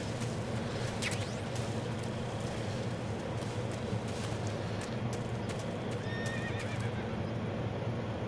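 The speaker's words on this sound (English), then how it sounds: "A horse." In Metal Gear Solid 3, a horse whinnies over clip-clopping hooves against a dense, steady jungle ambience, with faint bird calls scattered through the noise.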